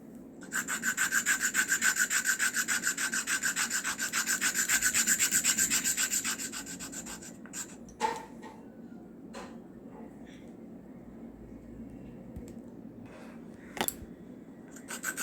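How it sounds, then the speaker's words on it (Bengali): Sandalwood rubbed against a stone to make paste: a steady, dense grinding scrape repeating in quick strokes for about seven seconds, then stopping, followed by a few faint knocks and handling sounds. "এবার গপুর জন্য আমি একটু চন্দন ঘষে নিলাম।"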